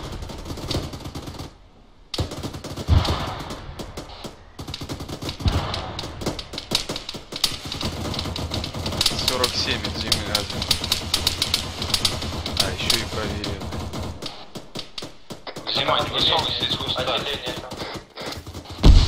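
Arma 3 battlefield gunfire: a dense patter of close and distant shots and bursts runs through most of the stretch, under voices talking over radio.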